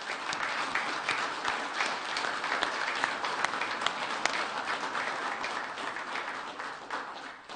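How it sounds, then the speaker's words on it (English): At a city council meeting, the room breaks into a sustained round of applause, many hands clapping evenly and fairly close, with no speech on top. "If y'all wouldn't mind giving them a big round of applause"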